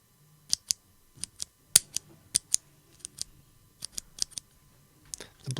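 Brown-switch mechanical keyboard keys pressed one at a time, a dozen or so crisp close clicks in an uneven rhythm with short pauses between them, no voices.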